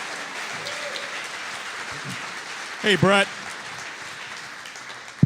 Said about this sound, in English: How about a big round of applause for LeRoy Butler tonight?